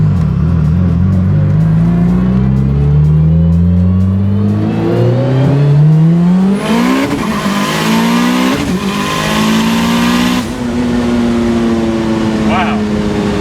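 Mitsubishi Lancer Evolution 9 with helical PPG gears and a 2.3 stroker engine accelerating hard through several gears, loud whining pitch sweeping upward, dropping at each shift and climbing again, with people talking inside the car.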